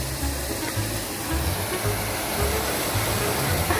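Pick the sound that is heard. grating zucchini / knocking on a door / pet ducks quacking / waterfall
waterfall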